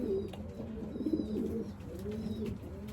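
Young racing pigeons coo softly and repeatedly inside a loft, their low throaty calls overlapping near the listener, with faint rustling and no talk.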